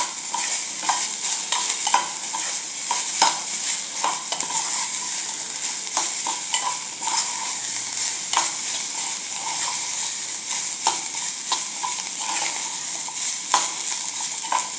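Onion-free masala with tomato and spices is stir-fried in a hot pan for a Kolhapuri egg curry. It gives a steady close sizzle with frequent spatula scrapes and clinks against the pan, and no talking.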